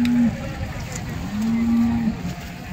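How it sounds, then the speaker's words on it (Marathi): A cow moos twice nearby at a cattle market, a short low call followed by a longer drawn-out one, over steady outdoor background noise. "मग आता पाठीमागून गाय दाखवतो"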